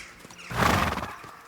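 A horse snorts in the medieval open-world game Kingdom Come: Deliverance II, one short breathy snort or sneeze at close range, with faint hoof and ambient sounds around it and no talking.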